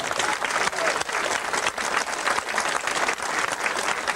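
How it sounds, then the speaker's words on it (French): Sustained applause at a ceremony inducting a new companion knight into a brotherhood, dense and steady clapping from a crowd throughout, with no pauses. "nouveau chevalier compagnon, Maurice Leroux, que nous applaudissons tous ensemble bien fort"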